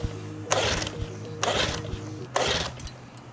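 An outboard boat motor cranked over three times for a compression test, each burst a rough whirring spin of about half a second, close and mechanical with short pauses between.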